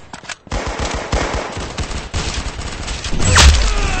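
Rapid automatic gunfire from the Roblox shooter game Arsenal, a dense burst of loud, near shots that runs almost without pause, rising to a heavier blast near the end.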